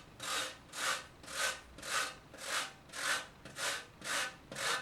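Orange rubbed against a grater in a steady back-and-forth rhythm, nine close, even rasping strokes with short pauses between them, no voices.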